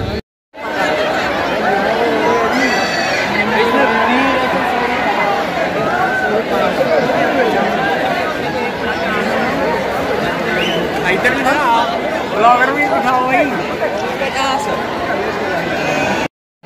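Large crowd of students rushing through an opened auditorium gate at a college movie promotion event, a dense continuous babble of many voices with shouts and laughter, loud and close throughout.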